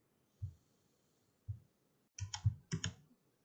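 Several quiet keyboard key presses, single taps followed by a quick cluster of clicks, are heard close and alone during CAD work in DesignSpark Mechanical.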